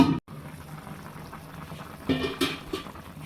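A covered curry of puti fish, pointed gourd and jackfruit seeds simmers on low heat, a soft close bubbling burble with a brief knock near the start and a few louder gurgles.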